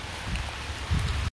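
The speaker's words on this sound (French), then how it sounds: "En ce jour de pluie." Steady rain falls outdoors on a wet day, a soft continuous patter and hiss with low rumbling wind or handling noise, moderately faint, with a brief dropout near the end.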